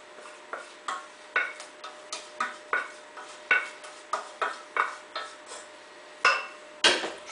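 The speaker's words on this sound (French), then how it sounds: "Je mélange." Whisk beating melted chocolate and butter into a chocolate cake batter in a bowl, giving a steady series of sharp scraping clinks about twice a second, close and alone.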